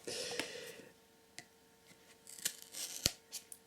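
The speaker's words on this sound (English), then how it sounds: "let's open it using the Spyderco Sage 2" A Spyderco Sage 2 folding knife cutting open a cardboard box, giving a few scattered sharp snips and slicing scrapes, with one crisp loud cut near the end, close up and without talk.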